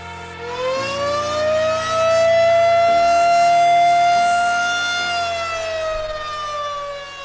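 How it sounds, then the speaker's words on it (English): An outdoor tornado warning siren in Denver wails loud and steady, its rising and falling tone holding for several seconds with no other sound. "When you hear the siren, you seek shelter."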